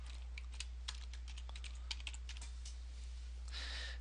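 Quiet, close keystrokes on a computer keyboard typing a search, irregular light taps with a short rapid burst at the end, over a low steady hum.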